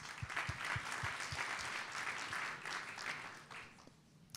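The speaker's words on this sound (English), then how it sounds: "I just wanted to give a round of applause to all the startups that are going to be presenting." Applause at a tech startup summit, a fairly quiet and distant round of clapping that builds briefly with some distinct claps, then fades toward the end.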